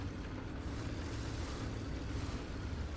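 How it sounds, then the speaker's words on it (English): A P40 medium tank engine in War Thunder drones low and steady as it slowly spools up, a continuous rumbling hum under faint wind-like noise. "The engine takes a long time to spool up."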